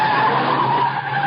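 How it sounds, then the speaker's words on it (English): A souped-up car speeds down from a house and skids, its tires squealing in a loud, sustained screech with engine noise for over a second, as a radio drama sound effect, with no voices. "Car coming down from the house. Yeah, at a good clip, too."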